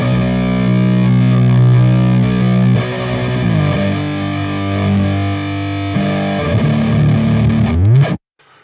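Drier overdriven electric guitar with reverb off plays slow, heavy sustained funeral doom chords with a few changes, then cuts off suddenly.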